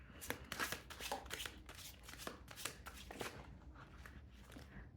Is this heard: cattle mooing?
no